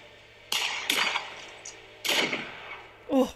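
Gunfire from an episode of The Last of Us, heard as a few sharp, loud bursts spaced apart with quieter stretches between them.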